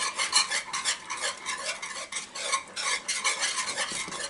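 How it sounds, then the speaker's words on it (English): Cornmeal mush stirred in a cast iron pan, a close, continuous swishing and scraping of the spoon in rhythmic strokes with a faint sizzle underneath, no talk. "get this into a nice stir, and look at how that's thickening up already"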